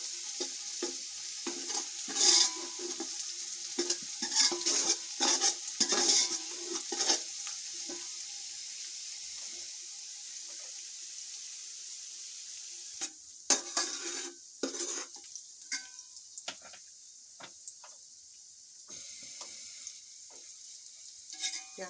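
Onions frying lightly in a pan give a faint, steady sizzle with scattered clinks and scrapes of a utensil against the pan, and a busier burst of clatter later on.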